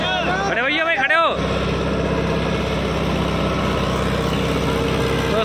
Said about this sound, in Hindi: दोस्तों ट्रैक्टर के जोर देखे जा रहे हैं